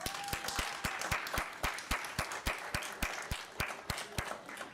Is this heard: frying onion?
no